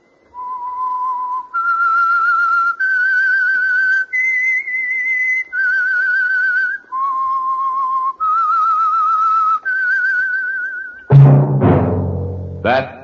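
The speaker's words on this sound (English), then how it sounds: "That whistle is your signal, The Whistler." A lone human whistler performs a slow, eerie melody of about eight held notes stepping up and down, close and clear, as the signature signal of the radio drama The Whistler, followed by a brief burst of orchestral music.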